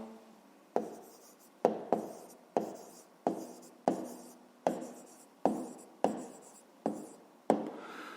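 Pen writing by hand on paper while working through a school maths exercise, heard as about ten short, evenly spaced scratchy strokes, close and quiet, with no talking.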